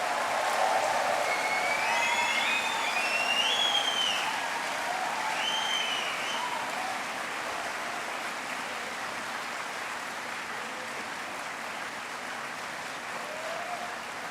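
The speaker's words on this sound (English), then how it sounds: "Give them a really big round of applause." Sustained applause from a large audience at a university engineering graduation ceremony, a dense steady clatter of clapping that starts loud and gradually eases over about fourteen seconds, with a few faint whoops near the start.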